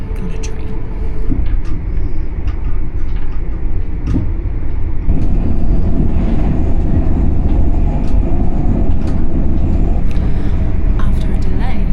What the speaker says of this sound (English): After a delay, the train is now going very fast to make it up.